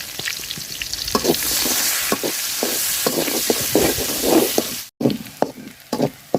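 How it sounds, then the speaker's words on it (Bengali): Chopped onion frying in hot oil after fish, a loud steady sizzle broken by repeated scraping stirs, with a brief pause before the stirring picks up again. "মাছ বাজার তেলে পেঁয়াজ কুচি দিয়ে দিলাম"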